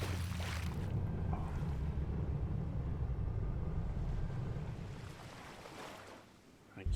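A spaceship lands in water in the Eden Crafters video game, rough rushing water and wind-like surf noise that holds loud for several seconds, then fades before a sudden burst at the end.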